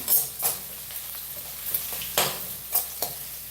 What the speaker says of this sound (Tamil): இப்போ இங்கே காராமணி பொரியல் தாளிக்க போகிறேன் இப்போ அதுக்குள்ளே இது நல்லா வதக்கட்டும்